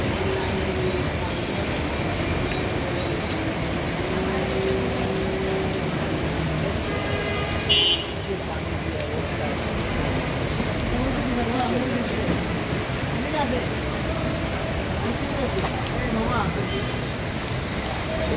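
Steady rain falling on a flooded street in Dhaka, a constant hiss of water with faint traffic rumble beneath, continuous and fairly close, with a brief sharp knock partway through.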